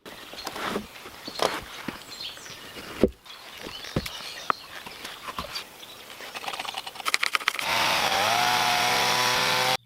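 A chainsaw trims the tops of log pillars to an even height at a wilderness log home build, heard mostly as scattered cuts and knocks before a steady, loud saw drone takes over near the end.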